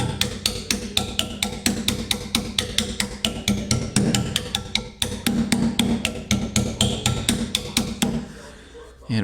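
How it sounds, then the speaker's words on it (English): Light hammering with the ball end of a hammer on sheet-metal body panels during rust repairs on an AP6 Chrysler Valiant, a steady rapid series of sharp metallic taps, close and fairly loud, briefly pausing midway before continuing and then trailing off. "ball end of this hammer here, just lightly going round."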